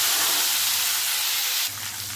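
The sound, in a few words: chopped tomato sizzling in hot oil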